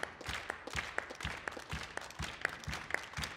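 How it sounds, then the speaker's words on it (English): Hand claps in a rhythmic pattern shown at a jazz collective performance on the Millennium Stage, sharp evenly spaced claps repeating in a steady beat, fairly close and quiet against a soft room background. "this is one clap that goes with this."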